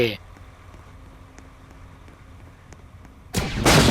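A lightning gun firing in the Roblox video game: a quiet electronic hum, then a loud, harsh crackling blast that bursts out near the end and stays strong.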